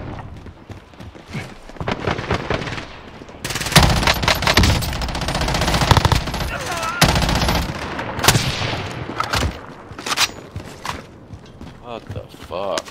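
Video game firefight with rapid automatic gunfire in loud bursts, near and distant shots overlapping with heavy impacts, while players talk over the shooting.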